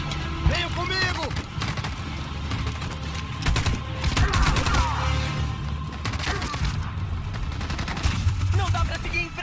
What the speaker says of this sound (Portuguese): A metralhadora tá atirando em tudo que aparece